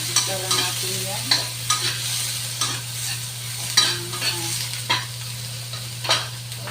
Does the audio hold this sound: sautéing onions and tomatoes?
yes